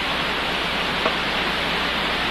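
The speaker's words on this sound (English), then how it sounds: "every sound in the world all pushed together to make one really terrific noise" Dense, steady broadband roar of every sound blended into one composite noise, broadcast toward ant mounds in an open landscape; a constant hiss like static or rushing water, loud and unbroken throughout.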